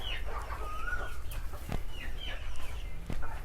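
Chickens clucking and calling on a part-time country chicken farm in Tenkasi district, several birds close by with short overlapping clucks over a constant low background rumble.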